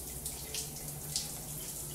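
A bathroom hand shower sprays water to rinse a shower box, producing a steady close hiss of running water with slight splashing throughout, no voices.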